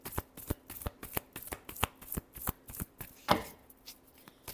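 Tarot cards being shuffled by hand, a fast regular series of crisp riffling slaps and flicks, close and fairly quiet with no talking.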